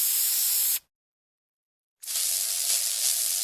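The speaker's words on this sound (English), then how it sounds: "Dan took the furniture spray back to the restaurant and sprayed polish on all the" Two bursts of hissing spray from a can of furniture polish, each lasting under a second to about a second and a half, separated by a silent gap, close and bright.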